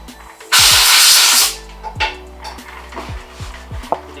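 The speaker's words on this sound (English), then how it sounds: "I'm gonna use the air compressor real quickly." An air compressor nozzle gives one loud blast of compressed air lasting about a second during a Mazdaspeed engine build, followed by light clinks and taps of parts being handled.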